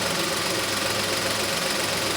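A VW Polo 1.2 three-cylinder engine idles steadily with a freshly fitted alternator belt on a cleaned pulley, producing a continuous, even mechanical hum and rattle close to the listener, with no talk.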